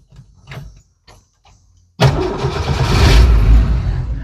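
A 1981 Jeep CJ7 engine cranks and catches, bursting into a loud, close, rough idle after a few faint clicks and knocks, then settling into a steady running rumble.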